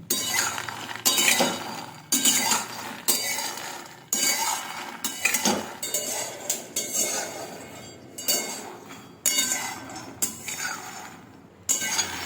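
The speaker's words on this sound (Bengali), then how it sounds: "এটাকে বেশ কিছুক্ষণ ধরে নাড়াতে হবে, যতক্ষণ এটা ব্রাউন কালারের হয়।" Fox nuts dry-roasting in a pan, stirred continuously so the hard puffs rattle and clink against the metal in steady, loud sweeps with brief pauses between strokes.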